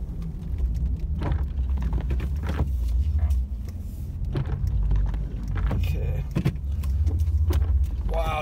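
A car engine roars and speeds past on a snowy Big Bear road amid continuous road rumble, with jangling rattles and bumps, fairly loud and close.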